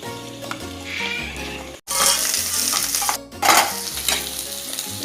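Onions sizzling steadily in a hot pan as they are stirred, with scraping strokes and a brief break in the frying, close and fairly loud.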